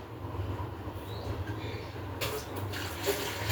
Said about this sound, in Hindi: इसमें मैं थोड़ा गर्म पानी ऐड कर रही हूँ।